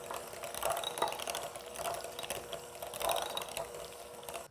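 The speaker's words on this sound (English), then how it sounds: "I'm just gonna use my mixer to mix it up real quick." An electric hand mixer whirs steadily in a bowl of mayonnaise-based French onion dip, a continuous close mechanical buzz with slight rhythmic surges as the beaters work, no talking.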